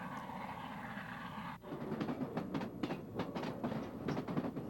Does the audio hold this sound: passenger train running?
yes